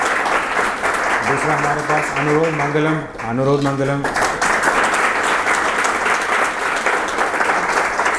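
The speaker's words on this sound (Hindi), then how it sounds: "इनके लिए ताली बजाइए।" A class applauds students who passed the Indian Coast Guard results, steady clapping filling the whole stretch while someone speaks over it.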